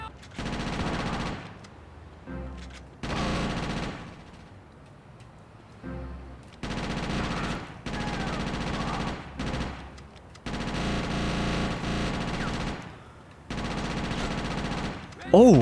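Machine gun fire from the game GTA Chinatown Wars comes in several loud bursts of rapid shots a few seconds apart, with brief quieter gaps between volleys.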